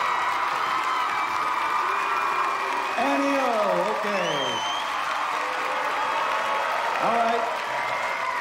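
An audience cheers and applauds for Sure Shot Annie Rojas at a sporting contest, a steady wash of crowd noise running under someone talking loudly over it.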